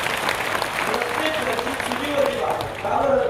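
An audience at a kirtan in Alandi claps steadily and loudly throughout, with a speaker's amplified voice carrying over the applause.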